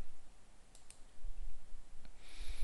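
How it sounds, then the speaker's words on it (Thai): A couple of light mouse clicks in Premiere Pro editing software, sharp and close but faint over a steady background hiss, with one more click near the end. "คลิกเลยครับ add keyframe"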